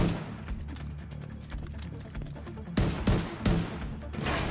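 Gunfire from a SCAR rifle in the video game The Division 2: a few sharp, loud reports in quick succession near the end, after quieter mechanical game ambience.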